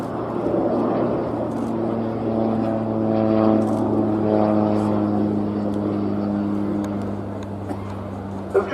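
A Breguet Alizé propeller aircraft comes in to land with undercarriage and arrestor hook down at an air day, a loud steady droning hum that swells and then holds.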